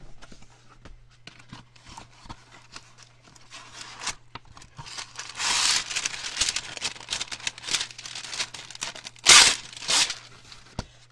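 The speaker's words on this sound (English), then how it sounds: "Oh, let me get some parchment paper." Parchment paper is torn and crinkled close by during nail-art work, beginning with light scattered crackles and building into busy rustling and crumpling bursts, with a sharp louder tear near the end.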